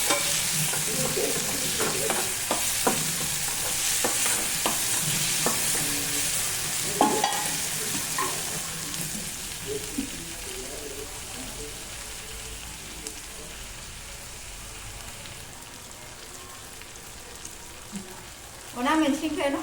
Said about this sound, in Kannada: ಟೊಮೆಟೊದಾಗೆ ನೀರೆಲ್ಲ ಹೋಗೋ ತನಕ ಫ್ರೈ ಮಾಡ್ಕೋಬೇಕು